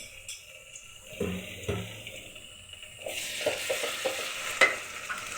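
Chopped onion with garlic and ginger paste frying in a pan for a curry, with clattering spoon stirs and scrapes over a soft sizzle that brightens in the second half.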